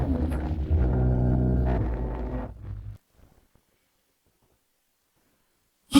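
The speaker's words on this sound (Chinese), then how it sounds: "大雪天的，怎么会打雷闪电？" Deep thunder rumbles loudly during a snowfall in a period drama scene, a broad low roar lasting about three seconds before fading into near silence, with a short burst at the very end.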